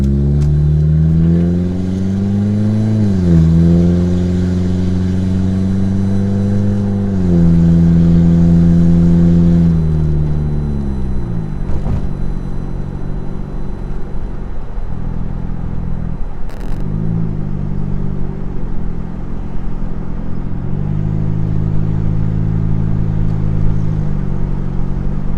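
A Honda Civic with its resonator and muffler cut off idles and revs close up, a loud raw exhaust rumble swelling through several throttle blips before settling back to a steady idle, with no talk.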